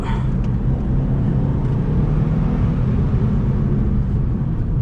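A Subaru WRX STI drives on a road in Japan, its engine a loud, steady drone with heavy road rumble. No distinct gear change stands out, and no voices are heard.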